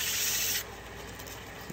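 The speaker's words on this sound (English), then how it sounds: "See if I can get a little sandpaper up in there." Sandpaper rubs against a wood-turned snowman on a lathe, a loud steady hiss for about half a second that drops to a quieter continuous rubbing.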